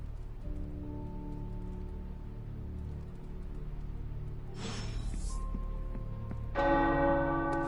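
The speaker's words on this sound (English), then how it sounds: "The tower bells are ringing." Deep tower bells in a Fallout video game ring steadily in a low, resonant drone, with brighter chiming strikes swelling in near the end over a soft background hiss.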